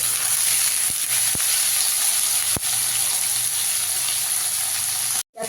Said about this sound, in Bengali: আলুটা ক্যাপসিকামটা একটু ভাজা ভাজা করে নেব।